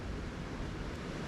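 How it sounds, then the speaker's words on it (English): Breath blown gently into a Bripe coffee brew pipe to clear grounds from the filter gives a soft, steady, airy rush, faint and close, with no talk over it. "I'm blowing gently into it to get rid of some grounds out the filter"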